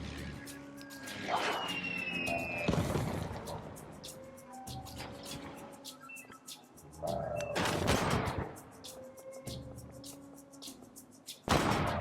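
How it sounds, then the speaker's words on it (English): Heavy bomber strike on the city of Roma in Civilization VII, a burst of rumbling explosions and gunfire-like bangs with several loud blasts standing out over ongoing game sound effects and music. "Heavy bomber will hit Roma."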